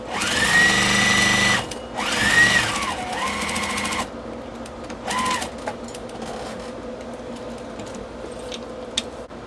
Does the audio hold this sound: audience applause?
no